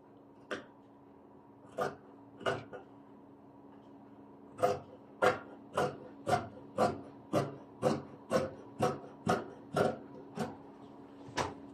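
Scissors cut fabric for a shawl collar vest in a quiet room, making about fourteen crisp, evenly spaced snips close by, sparse at first and then in a steady rhythm.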